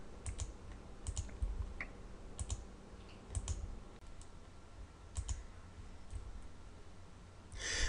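Light typing on a computer keyboard with occasional mouse clicks, short bursts of close keystrokes separated by pauses, quiet and alone apart from faint breathing.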